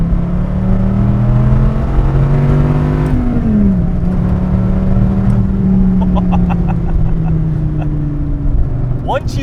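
A loud 2008 Dodge Viper ACR engine drones and shifts pitch as it pulls, dropping briefly between gears, with someone talking over the steady roar.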